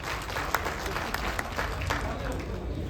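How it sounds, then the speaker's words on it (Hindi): A crowd at a welcoming rally in Kanishk Garden, Mundka, breaks into sustained, fairly distant applause that lasts the whole moment, with a few sharper claps standing out and faint voices underneath. "एक बार तालियां बजा दीजिए साथ।"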